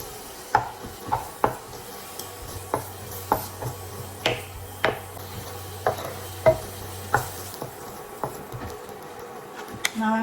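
Onion frying in a pan on an induction cooktop, with a soft continuous sizzle under a string of sharp, evenly spaced scraping and tapping clicks from a utensil, heard close and fairly loud with no talking.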